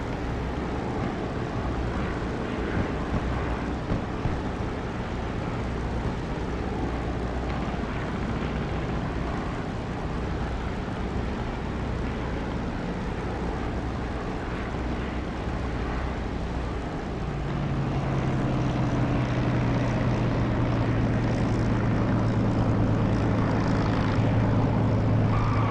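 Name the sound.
aircraft landing approach in DCS flight simulator video game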